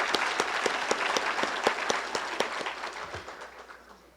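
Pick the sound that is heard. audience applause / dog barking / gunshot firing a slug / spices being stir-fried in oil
audience applause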